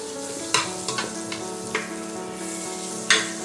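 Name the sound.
butter melting and sizzling in a pan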